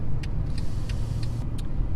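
A Mercedes-Benz CLS550 luxury car driving gives a steady low engine and road rumble throughout, with a few faint high ticks on top and no talk.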